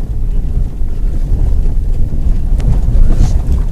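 A two-wheel drive vehicle on a bumpy mountain pass road, with a loud, close, rumbling low roar and buffeting noise throughout, no voices.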